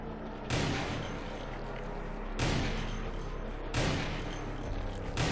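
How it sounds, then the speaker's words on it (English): Gunfire in a shooting video game at long range, three loud booming shots spaced about one to two seconds apart, each with a long rumbling tail, over continuous game noise. "I am shooting at such a small blip."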